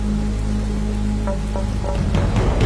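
Heavy rain pours down in a cartoon ghost story at a village cremation ground, a dense steady hiss with a low rumble underneath and no talk.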